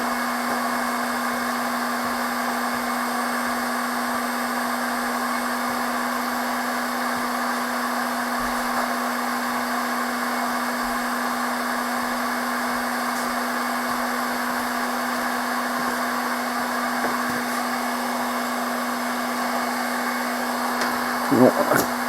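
A heat gun blows steadily on soldered joints of a restored wiring harness for a 2001 Ford F-250 5.4 engine swap, a constant loud whooshing hum that runs unbroken and alone, with a few faint clicks near the end.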